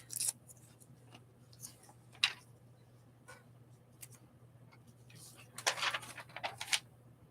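Scissors fussy cutting a printed paper image for a collage journal, a series of crisp snips and paper rustles spaced irregularly, close and fairly quiet over a low steady hum.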